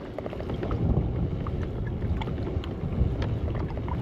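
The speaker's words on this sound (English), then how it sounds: "now we're against wind and tide. Let's see how it does." A Moken 10 fishing kayak paddled against wind and tide gives a steady wash of water sloshing around the hull, with rough wind buffeting the microphone and faint splashes throughout.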